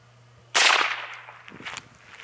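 A single sharp crack of a .22 LR Gia Super Maximum round fired into a plywood board, loud and close with a quick decaying tail, followed by faint rustling and a few small knocks.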